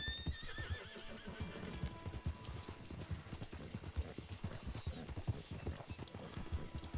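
A horse in the video game Red Dead Online gallops with rapid, rhythmic clip-clop hoofbeats, neighing and whinnying near the start and again midway, all without talk.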